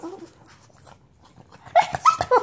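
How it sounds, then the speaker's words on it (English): A dog excited by a BarkBox subscription package lets out a quick run of high, close whimpers and yips after quieter rustling at a mailbox. "you're not acquainted with my dog Missy, who is a psychopath when it comes to the BarkBox"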